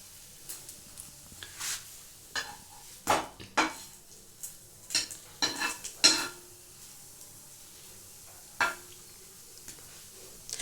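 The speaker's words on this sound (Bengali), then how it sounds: "একটু নাড়াচাড়া করে তারপর নামাবো" A spoon scrapes and clinks in a pan while crispy kheer patisapta, a Bengali rolled sweet pancake, is stirred and turned, giving sharp intermittent taps and scrapes over a soft sizzle.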